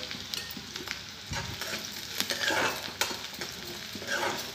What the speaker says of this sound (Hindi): क्रिस्पी होने तक हम इन्हें फ्राई करेंगे।